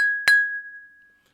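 Drinking glasses clink once in a toast, a single bright chime that rings out clearly and fades slowly in a quiet room.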